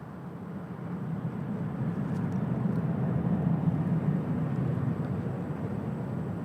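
Southwest airliner departing runway 24 left at LAX, a steady broad low roar that swells slightly and holds, heard from a distance with no talk over it.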